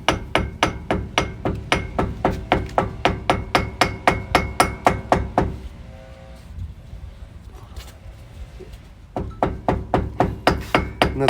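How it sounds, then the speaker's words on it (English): A hammer taps a protected dust cap onto a wheel hub of a 2004 Ford Explorer Sport Trac XLS, a steady run of light, evenly spaced metallic knocks that stops briefly and then resumes. "We'll cover this up so it's not damaged and then just hit it with the hammer lightly."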